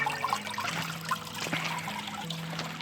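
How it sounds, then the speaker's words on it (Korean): A small decorative garden fountain at a country house trickles and splashes steadily like a little stream, soft and continuous with faint background noise and no talk. "이렇게 예쁜 분수대도 이렇게 해두고 있습니다. 소리가 굉장히 시냇물처럼 잘 나고 있습니다."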